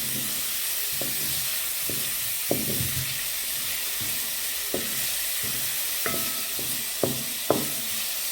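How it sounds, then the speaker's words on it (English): Onions fry in animal fat in a pan for a wet fry pork dish, a steady loud sizzle broken by occasional stirring scrapes and clinks, with no voices. "So I'm just trying to fry the onions."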